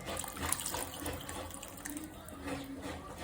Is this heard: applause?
no